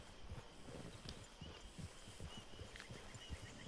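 A horse's hooves clop steadily across the ground in Red Dead Redemption 2, a faint, regular rhythm of hoofbeats over a soft background wash.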